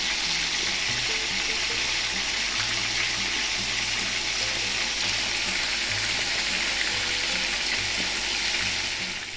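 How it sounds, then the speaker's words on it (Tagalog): Chicken oil frying in a pan, a steady, close sizzle with crackling that holds for the whole stretch, plus low hums from the background. "While waiting for the chicken oil to be cooked"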